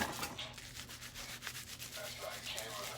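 Sticky slime being rubbed by hand to work styrofoam balls out of it, a steady close-up scraping and rubbing texture with soft repeated strokes, alone without talk.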